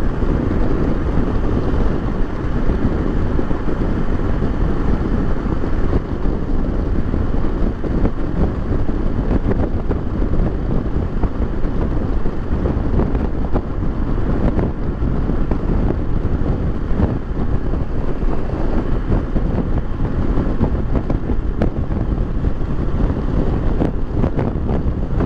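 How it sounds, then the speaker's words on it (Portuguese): Strong crosswind roars constantly across the helmet microphone while riding a 2018 Kawasaki Versys 650 ABS Tourer motorcycle on a highway, a dense, buffeting rush that masks nearly everything else for the whole stretch. "Bastante vento lateral."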